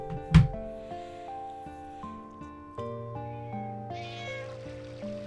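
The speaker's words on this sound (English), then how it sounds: "That's a fugly looking cat, man." A cat in the video game Final Fantasy IX gives a single short meow near the start, set against sustained game music with layered tones.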